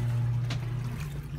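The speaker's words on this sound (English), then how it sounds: "Keep on going with the stern thruster, see how it goes." A stern thruster on a 2007 Meridian 341 motor yacht churns water, giving a steady low engine hum with a faint splashing wash over it, heard close and continuous without speech.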